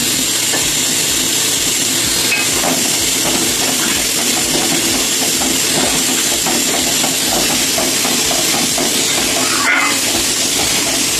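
Chutney sweetened with rasgulla syrup and seasoned with turmeric simmers in a pan, giving a steady, close hiss of steam with soft bubbling that runs evenly throughout.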